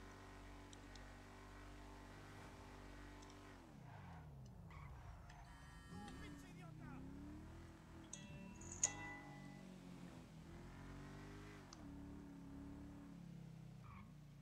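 A car engine in the video game GTA 5 revs and shifts pitch, rising and falling over several seconds under steady background music, fairly quiet overall.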